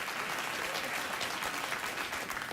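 A late-night talk show studio audience applauds in a dense, steady burst of many hands clapping together, sustained at an even level from start to finish.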